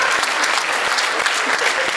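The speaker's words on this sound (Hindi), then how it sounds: "भाई जोरदार तालियां होनी चाहिए इस पर" Audience applause at a Hindi comedy poetry gathering, a brief burst of dense clapping with a few distinct louder claps popping out, loud and close.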